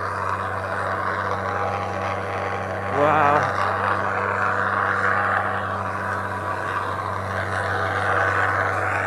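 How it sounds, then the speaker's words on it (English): Heavy trucks labor loudly along a rough road in Türkiye, a continuous droning engine roar with steady low hum; a voice briefly exclaims partway through. "Yeah, these trucks really struggle."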